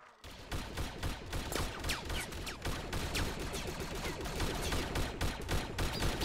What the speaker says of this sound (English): they are firing into the bush kinda random